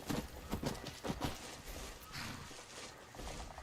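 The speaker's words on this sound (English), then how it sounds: "Lydia, get off my horse." Horse hooves clip-clop through the first half of a Skyrim scene, a few loud, closely spaced steps near the listener that then thin out into quieter game ambience.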